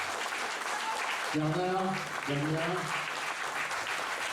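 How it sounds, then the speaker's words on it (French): An audience at a French municipal arts-centre show in Flers applauds steadily, a dense patter of many hands running beneath a voice that speaks over it in the middle. "Je pense qu'on a pu l'applaudir bien fort."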